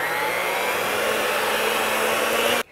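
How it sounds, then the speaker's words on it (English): An electric mixer on medium speed beats peanut butter cupcake batter with sugar, a steady loud whirring motor hum running unbroken until it is switched off near the end. "Now I'm going to mix this with an electric mixer on medium speed."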